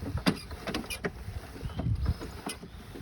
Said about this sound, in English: We're just gonna roll her back and forth. Gets that stuff mixed up nice and good.